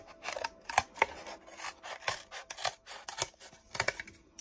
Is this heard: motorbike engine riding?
no